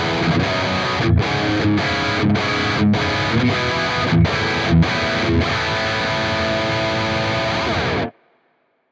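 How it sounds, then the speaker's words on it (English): Heavily distorted electric guitar through CorOS 3.0.0 effects, loud and dense, with rhythmic chugging chords and brief gaps, then a sustained final chord that cuts off at about eight seconds, no voices. "Next, we have our distorted sound on scene C."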